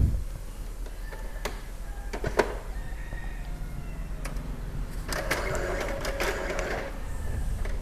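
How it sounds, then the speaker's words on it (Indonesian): An Epson L3210 printer running a print job makes quiet mechanical whirring with intermittent clicks and short feed bursts, fairly faint and with no speech. "Coba kita lakukan print."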